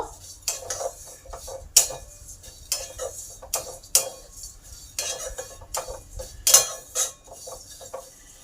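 Flattened rice (chira) being fried in ghee in a karahi for payesh, with repeated scraping and clinking strokes of a spatula against the metal pan in an uneven rhythm, close and fairly loud.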